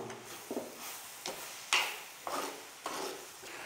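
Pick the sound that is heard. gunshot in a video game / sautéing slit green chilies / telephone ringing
sautéing slit green chilies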